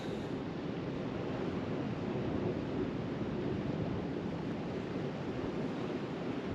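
Wind blows over a choppy sea at the shore on a sunny day, a constant broad rushing wash of surf and gusts with no pauses, moderately loud and close to the microphone.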